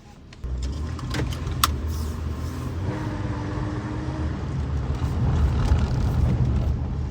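A V6 955 Porsche Cayenne with a muffler bypass rumbles steadily while driving, a low exhaust drone that grows slightly louder toward the end, with a few faint clicks early on.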